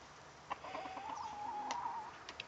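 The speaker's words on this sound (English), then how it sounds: "it's a buff silky rooster" A buff silkie rooster clucks nearby in a steady, moderately loud run of low calls, with a faint drawn-out note and scattered short sounds around it, and no talking.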